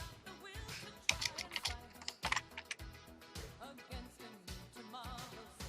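Keys on a computer keyboard are typed in quick, uneven bursts of close, crisp clicks, with short pauses between runs.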